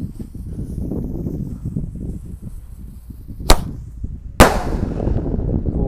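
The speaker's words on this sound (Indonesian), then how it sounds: "Selanjutnya ini mercon emas." A mercon emas firecracker bursts twice, the first crack sharp and brief, the second louder with a short hissing tail, over a rumbling outdoor background.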